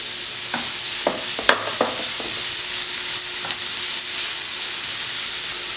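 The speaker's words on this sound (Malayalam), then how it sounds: "ഈ സവോളയും നന്നായിട്ട് വഴറ്റിയെടുക്കണം." Onions with green chili and curry leaves sautéing in a pan, a steady close sizzle and hiss with occasional scrape and clink of a spoon stirring.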